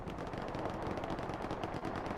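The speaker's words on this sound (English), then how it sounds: "the celebration gunshots start to come out. Coax and main guns alike." Tanks in a video game battle let loose a celebratory barrage of coaxial machine guns and main cannons, with dense, continuous rapid gunfire and booming shots.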